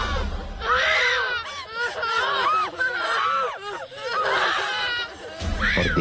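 Children's shrill screams and cries in a horror story scene, loud and overlapping in bursts across the whole stretch with no speech over them.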